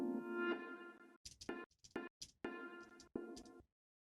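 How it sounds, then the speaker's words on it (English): Short, abrupt fragments of reverberant piano tone, chopped off suddenly with silent gaps between them, ending in silence. "Little clips from the piano, like offcuts from reverb tails."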